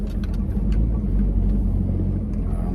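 A Honda Accord CD5 fitted with headers drives along, its engine a steady, low, rumbling drone heard from inside the car, even in level throughout with no talking.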